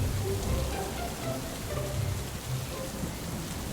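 Steady rain falls on a surface with a constant moderate hiss and patter, accompanied by soft low rumbles, continuous throughout without any voices.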